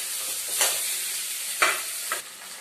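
Potatoes fry in a pan with a steady hiss of oil, broken by three bursts of scraping as they are stirred, close and fairly loud.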